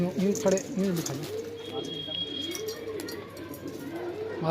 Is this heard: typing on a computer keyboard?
no